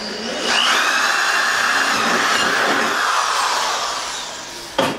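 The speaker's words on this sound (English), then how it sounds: "I'm going to drill a couple of drain holes." A power drill whines steadily for several seconds at close range, drilling drain holes in a plastic cooler, then cuts off with a short clunk.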